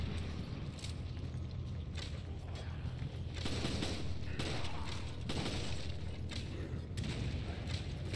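Gunfire and grenade blasts in the PC game Resident Evil 5 on Professional difficulty, a dense, continuous barrage of shots and thuds with mechanical clatter, loud and steady throughout.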